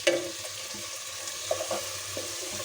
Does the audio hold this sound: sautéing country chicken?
yes